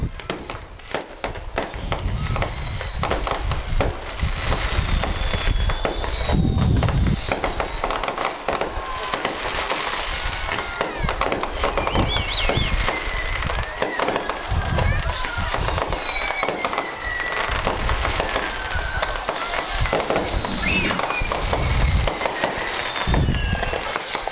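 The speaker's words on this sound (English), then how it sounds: "There's your homecoming fireworks, annual tradition." Homecoming fireworks at a high school football game crackle and pop continuously for a long stretch, bursting with whistling streaks and booms at a distance while people talk over them.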